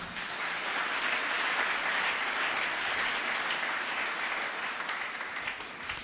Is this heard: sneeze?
no